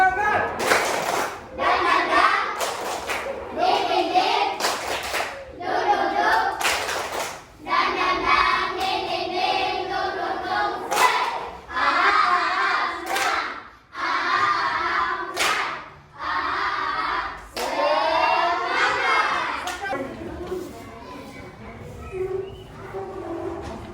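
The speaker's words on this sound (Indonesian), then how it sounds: "Kita tepuk semangat dulu ya. Tepuk semangat." Schoolchildren in a classroom do a rhythmic spirit clap (tepuk semangat), their claps landing in repeated patterned bursts with short pauses between. Young voices chant along through the sequence.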